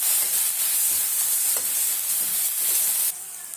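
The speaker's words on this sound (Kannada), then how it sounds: "ಈರುಳ್ಳಿ ಸಣ್ಣ ಸಣ್ಣ ಮಾಡಿ ಇಟ್ಕೊಂಡಿದ್ದೆ ಅದನ್ನು ಸೇರಿಸಿದ್ದೀನಿ ಈಗ ಫ್ರೈ ಮಾಡ್ತಿದ್ದೀನಿ" Finely chopped onion frying with curry leaves in a pan, a steady bright sizzle holding throughout with occasional stirring scrapes, loud and close, no talk.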